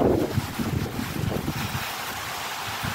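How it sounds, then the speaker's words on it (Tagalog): Strong wind roars and buffets the microphone in heavy, continuous gusts outdoors on a cassava farm in Pagbilao, Quezon, with no talking. "Napakalakas ng hangin."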